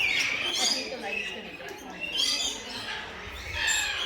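Parrots calling at a bird sanctuary in the Maleny Botanical Gardens, bright chirps and squawks repeating close by over a steady outdoor background.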